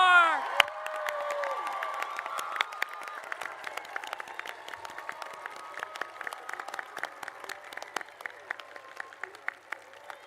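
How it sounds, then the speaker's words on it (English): A commencement crowd applauds and cheers for the graduating class. A shout opens the clip, then scattered claps and distant whoops fade gradually over about ten seconds. "Please join me in giving one more enormous round of applause to the class of"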